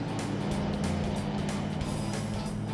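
A 4WD car drives across a salt lake crust in the Simpson Desert, its engine a loud steady drone heard from inside the cabin with a constant rumble beneath.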